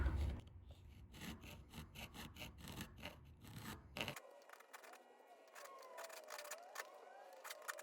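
A hand file working an aluminum edge, quick rhythmic rasping strokes close by for about four seconds, then the scraping stops and only faint squeaky handling noises remain.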